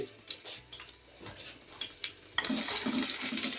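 Garlic frying in about two spoons of hot ghee for mung dal tarka, soft stirring clicks first, then a louder, dense sizzle that swells and holds near the end; no speech.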